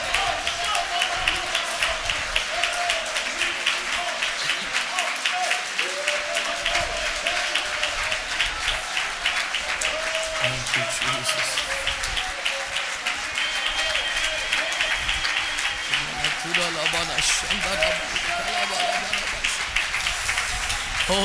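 Steady, continuous clapping from a seminar audience during worship, a dense rhythmic patter holding throughout alongside voices and music.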